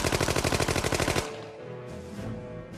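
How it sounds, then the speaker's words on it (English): A Thompson submachine gun fires a rapid, loud burst of evenly spaced shots for just over a second, then stops, leaving a lower rumbling aftermath. "it was the Tommy gun"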